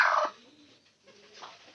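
A hen set on eggs to brood inside a carton indoors gives a couple of faint, low, brief clucks with quiet gaps between them.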